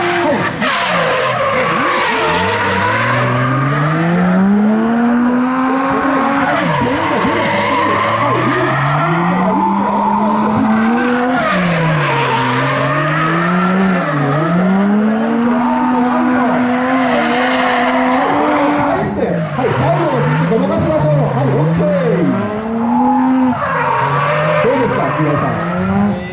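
Race cars sliding through the final corner at a barefoot-class racing final, tires squealing in long wavering screeches over roaring engines that rise and fall repeatedly, loud and close throughout.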